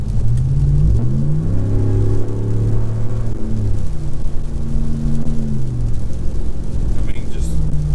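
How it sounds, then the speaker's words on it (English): A truck fitted with a Carven exhaust accelerating on a rainy road, its engine rumble rising steadily and loud throughout, with someone talking over it and rain and road hiss filling the background. "Now I'm about to give it gas to take it up to 60 miles per hour."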